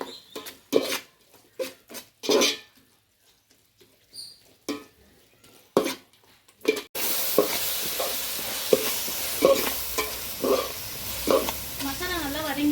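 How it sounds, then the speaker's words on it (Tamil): Masala of onions, turmeric and garam masala sizzles and frying in a pan while being stirred for kuska, scraping strokes at first, then a steady loud sizzle with repeated stirring clatter. "மசாலா நல்லா வதங்கிடுச்சு"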